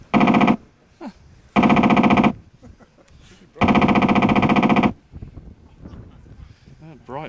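Onboard sound generator in a scale RC Spitfire model plane playing machine gun fire, three loud rapid rattling bursts of about half a second to over a second each, separated by pauses with quiet talk and background noise.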